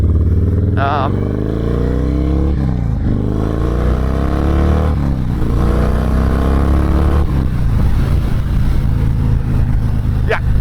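A Harley-Davidson Dyna Low Rider S motorcycle on the road, its loud engine droning and shifting pitch through the gears with a steady rumble throughout, a rider talking over it.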